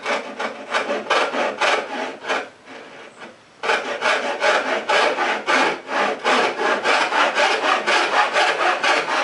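A frame saw cuts thick wood held on a bench hook in steady back-and-forth rasping strokes. The strokes pause briefly, then carry on at an even rhythm, close and clear.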